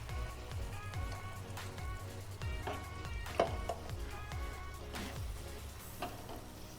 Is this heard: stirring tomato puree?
yes